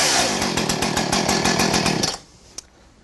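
A flooded chainsaw on high idle pull-started and briefly firing, a loud, close, sputtering engine that runs roughly for about two seconds before cutting out, followed by a single sharp knock.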